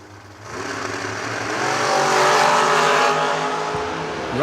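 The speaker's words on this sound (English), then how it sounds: "The junior dragster will be leaving first." A junior dragster launches in a drag race, its engine rising into a loud, steady roar that builds over a few seconds, peaks, then eases slightly as it pulls away.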